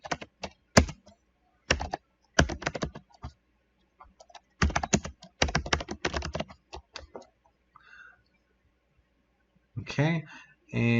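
Bursts of typing on a computer keyboard while building a playable Paragon character setup in Unreal Engine, fast clustered key clicks in several runs with pauses between, close and clear, with a voice coming in at the very end.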